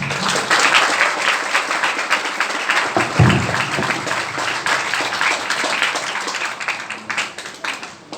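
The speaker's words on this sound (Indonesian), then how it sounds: "Saya tepuk tangan semuanya." Applause from an audience at an Islamic school gathering for a young student performer: loud, sustained clapping from many hands, with a few individual claps standing out and faint voices mixed underneath.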